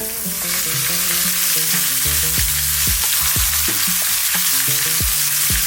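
Lamb sizzles and fries steadily inside a tagine, a loud continuous crackle with repeated scraping stirs and clinks of a utensil against the pot, no voices.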